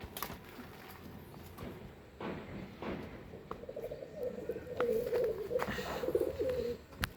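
Pigeons in a breeding loft setup coo in soft, throaty phrases that swell in the latter half, fairly faint and set against quiet room ambience.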